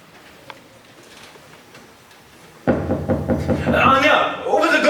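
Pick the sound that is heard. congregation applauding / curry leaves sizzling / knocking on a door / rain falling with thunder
knocking on a door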